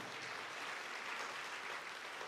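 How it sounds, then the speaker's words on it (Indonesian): Church congregation clapping during a sermon, a steady, fairly faint and even patter of many hands with no voices over it. "Tepuk tangannya kalau gak kompak gak usah tepuk tangan saudara."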